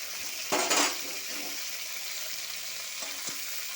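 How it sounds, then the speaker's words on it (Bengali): Snakehead fish frying in oil in a wok, a continuous sizzle with a louder burst as pieces shift, plus faint stirring and utensil clinks. "দেখো মা কড়াতে তেল দিয়ে মাছগুলো দিয়ে দিয়েছে"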